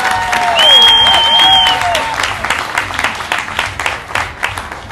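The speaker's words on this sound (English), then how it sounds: "Round of applause." Live audience at a cooking show during the Bite of Seattle food festival breaking into applause, a loud burst of clapping with a few whistles and cheers, then thinning into scattered claps toward the end.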